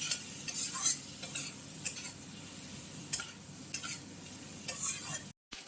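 Tomato and garlic puree fries with eggs in a pan for a Bengali dhaba-style egg tadka, giving a steady close sizzle broken by regular scraping stirs of a utensil, with no talking.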